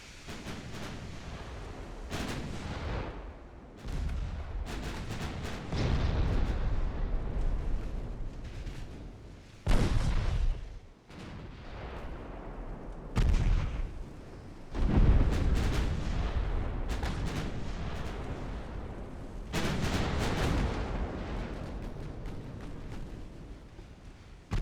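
Ultimate Admiral: Dreadnoughts naval battle gameplay plays heavy booming gunfire and torpedo impacts in repeated bursts over a roaring sea-and-battle din, with several loud detonations.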